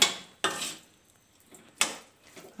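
A spoon scraping and clanking against a pan while vermicelli chicken biryani is mixed with its yellow masala, two or three distinct bursts of metal scraping separated by near quiet, up close.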